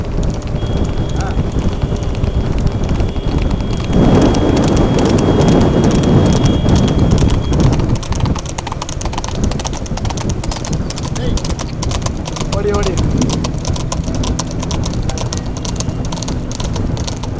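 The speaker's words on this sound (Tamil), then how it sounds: "சீரி பாய்ந்து வந்து கொண்டிருக்கின்ற குதிரை" Racehorses' hooves pound rapidly in a galloping rhythm at a horse race in Coimbatore, loud and close, with a fast excited Tamil commentator's voice talking over them throughout.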